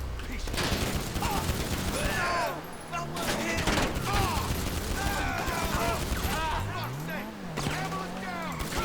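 Video game gunfire rattles in fast, dense bursts mixed with engine noise and shifting sound effects, while a voice talks over it.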